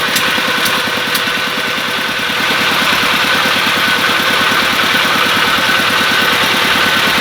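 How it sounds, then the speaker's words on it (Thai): A loud, close engine of an Thai "e-taen" farm vehicle idles steadily with a rapid, even chugging pulse throughout, no talking. "โอ้ติดนะครับเสียงเครื่อง"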